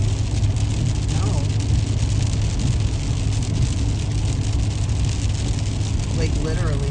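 Heavy rain hammers steadily on a moving car, a dense, loud wash of noise over the low road rumble of the vehicle, with people talking inside.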